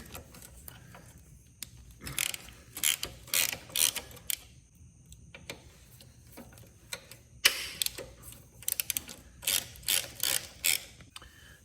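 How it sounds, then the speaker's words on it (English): Allen bolts are loosened on the rear master brake cylinder of a 1983 Suzuki GS 850 G, with bursts of rapid ratcheting clicks separated by quiet pauses, close and moderately loud. "Now we're gonna go ahead and remove these two Allen bolts here."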